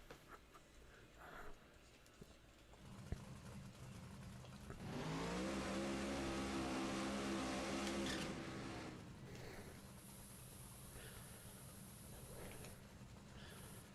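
A super long dragster in a drag racing video game roars into a loud, steady high rev for a few seconds, its harmonics sweeping up, then drops back to a low idle hum, with no talking.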